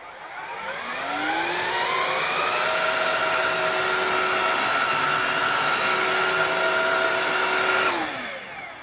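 A Shark WD210UK hard floor cleaner in freshen mode spins up with a rising whine, holds a loud, steady motor hum for several seconds, then winds down at the end.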